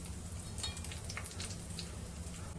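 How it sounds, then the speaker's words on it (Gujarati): Cumin seeds fry in hot oil in a pan for rajma, giving a soft, continuous sizzle with fine crackles, close and fairly quiet, without talk. "જીરું થોડું સંતળાય એટલે આપણે એની અંદર હિંગ એડ કરીશું।"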